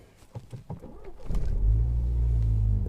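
A Mini's engine cranks and catches after a few faint clicks, then settles into a steady low idle rumble, close and fairly loud.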